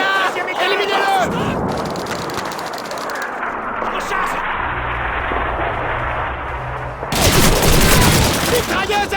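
Call of Duty 2 Russian campaign combat: a busy wartime soundscape of gunfire and battlefield noise, with sustained bursts and a loud surge of firing near the end, mixed with shouted voices.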